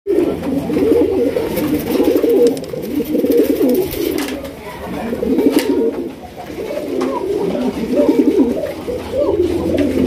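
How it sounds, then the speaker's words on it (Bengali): A pair of black bunty net pigeons coo continuously and close by, layered, rolling calls filling the whole stretch with steady energy. "তো দেখতে পাচ্ছেন এখানে কিন্তু একজোড়া রয়েছে ব্ল্যাক প্লেস বন্টি নেট কবুতর"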